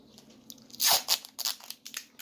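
Adhesive tape is ripped off a roll while a plant is being packed for shipping, one sharp loud tearing rasp followed by a few shorter crackling pulls, close and clear.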